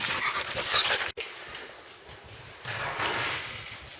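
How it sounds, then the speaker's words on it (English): Rescue dogs panting nearby, a quick breathy rhythm that is fairly faint and carries on steadily, with a short break partway through. "Oh, all the rescue dogs."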